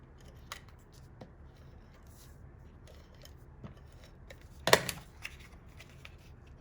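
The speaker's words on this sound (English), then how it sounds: "we're just going to trim off if it needs a trim" Scissors trim plaid paper for a handmade card, with a few light snips and one sharper, louder cut near the end, close in a quiet room.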